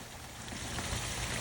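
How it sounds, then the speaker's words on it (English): Splashing water from a backyard garden waterfall fed by an irrigation system, a steady broadband rush heard close by and continuous, without speech. "Our waterfall has been here for 15 years, and it's hooked up to the irrigation system."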